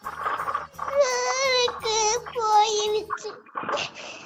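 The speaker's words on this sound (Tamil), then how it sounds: "பாப்பா ஏன் அழுகிற" A little girl cries in sobbing, wavering wails that come in several bursts close to the microphone, with an adult speaking to her between them.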